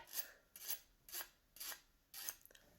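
A percussion instrument is scraped in five quick, even strokes, each a short, bright rasping burst, close and fairly soft with brief pauses between.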